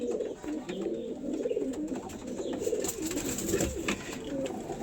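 Pigeons, including a Rampuri male, coo continuously in low, throaty, rolling calls, several birds overlapping nearby with a steady murmuring rhythm.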